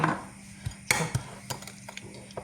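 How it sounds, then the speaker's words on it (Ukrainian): A spoon scrapes and clinks through salted potatoes with minced meat in a dish: a handful of sharp, quick strokes against quiet background. "Так, це все перемішуємо."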